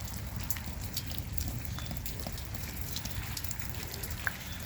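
Rain falls steadily on a front-yard garden with new pots, a dense, even patter of drops close by, continuous throughout with no voices.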